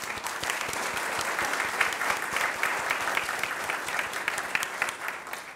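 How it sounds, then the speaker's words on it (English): A room full of people at a school district good-news and recognitions session gives a sustained round of applause, even and continuous clapping from start to finish with no talk over it. "That deserves a round of applause."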